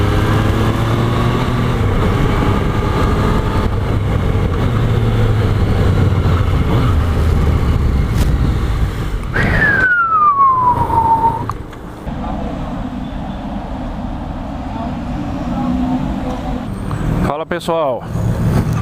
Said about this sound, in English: aí a turma já está começando a funcionar as motos